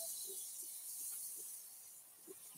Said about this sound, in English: it is still cast iron. So it should still be hot enough to make this butter sizzle.